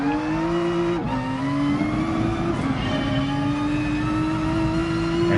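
Nissan GT-R NISMO GR3 race car engine in Gran Turismo Sport, revving loud and close with a strong steady drone, a brief dip near the start as revs drop and then climb again, no talk over it.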